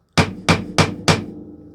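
Four sharp, evenly spaced taps on a Bestech pocket knife during a lock test, each a crisp close strike with a short ringing decay.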